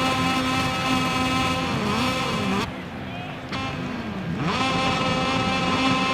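A Moto2 racing motorcycle revs on the grid in a racing video game, a loud, sustained engine whine that dips briefly and then climbs back in pitch, while a commentator talks over it.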